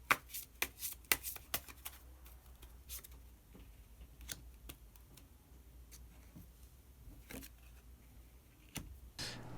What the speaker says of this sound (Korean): 히든 카드 한 장 더 뽑아보도록 하겠습니다.